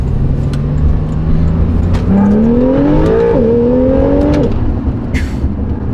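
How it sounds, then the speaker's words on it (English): A turbocharged Porsche 911 pulls hard through first gear, its engine note climbing steadily in pitch as it accelerates. It is loud and close, with a rough rumble underneath and no talking. "Alright, the first gear pull."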